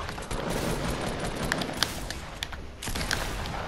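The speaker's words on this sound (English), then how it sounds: "shots are popping off there" Gunshots in the video game Fortnite rattle off in a dense burst, quick sharp cracks with a few louder individual shots standing out near the end.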